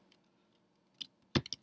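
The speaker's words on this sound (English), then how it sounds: "So then I will just type in the batch file name" Typing on a computer keyboard to enter a batch file name, heard as a few quiet, sparse key clicks with one short cluster of taps near the end, close and isolated.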